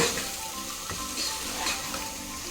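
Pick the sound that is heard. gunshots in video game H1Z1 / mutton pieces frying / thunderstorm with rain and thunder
mutton pieces frying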